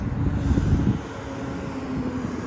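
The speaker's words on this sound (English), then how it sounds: "maybe someday we'll have EV airplanes. So then they won't be so loud over my roof." A low, steady engine roar of an aircraft passing overhead, louder at first and then easing into a continuous distant drone.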